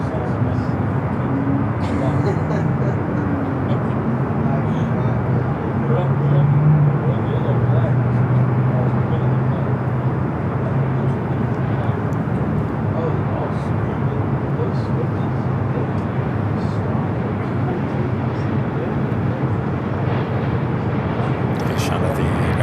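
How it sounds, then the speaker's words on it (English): A Boeing 787 Dreamliner taking off on runway 25R at LAX makes a loud, continuous engine roar that holds a broad rumble throughout. A faint whine rises briefly partway through, and a voice talks over the noise. "We got that Dreamliner rolling down that 25 out right."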